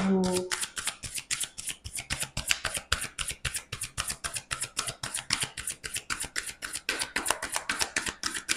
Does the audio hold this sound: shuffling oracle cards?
yes